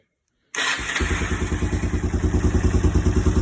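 A Kawasaki KLF300 Bayou 4x4 ATV engine, started without choke, cranks briefly and fires at once, then settles into a loud, steady, close-up idle with rhythmic thumping.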